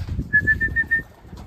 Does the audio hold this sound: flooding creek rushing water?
no